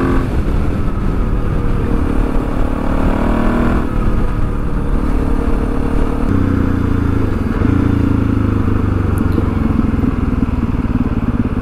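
A Suzuki DRZ400E dirt bike rides on a road that has turned from gravel to tar, its engine loud and close, rising and falling through gear changes over a steady rumble and wind noise.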